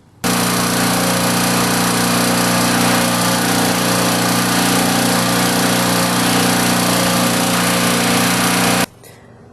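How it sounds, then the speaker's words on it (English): A grinder working on HEI distributor advance parts runs steadily and loud for about eight seconds, a constant high whine over a buzzing drone, then cuts off abruptly. "I'll take it apart and grind it"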